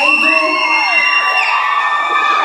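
Crowd at a K-pop showcase cheering and shrieking, high excited voices and whoops blending into a continuous loud roar throughout.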